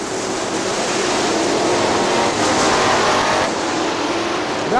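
IMCA modified race cars roar past on the oval at Crystal Motor Speedway in Crystal, Michigan, a loud, continuous engine drone swelling as a pack of cars passes close by, with no voices.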